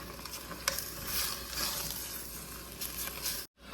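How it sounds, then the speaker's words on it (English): Stew meat being stirred in a pot, a soft sizzling and scraping texture that runs continuously at low volume, with a brief sharp clink partway through before cutting out abruptly near the end. "go ahead and give this a quick stir"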